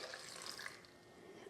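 Warm water pours for a short moment into a bowl of raw butternut squash soup ingredients, a faint splashing trickle.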